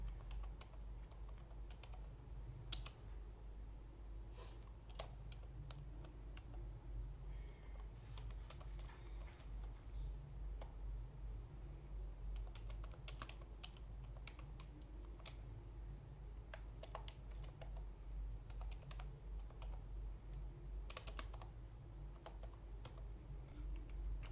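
C code is typed on a computer keyboard, a quiet, steady stream of small key clicks and taps with occasional sharper strokes over a faint background hum.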